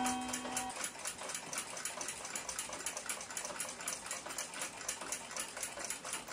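A restored 1882 Ansonia clock movement, its time side not yet oiled, ticks quietly in a fast, even rhythm that stays steady throughout and is heard alone.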